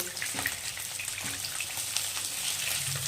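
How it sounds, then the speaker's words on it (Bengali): Katla fish frying in hot oil gives off a steady, close sizzle with crackling spatters throughout, and no one speaks. "আমার মাছ ভাজা একদম কমপ্লিট হয়ে গেছে, দেখেন একদম লাল লাল হয়ে গেছে ভাজাটা"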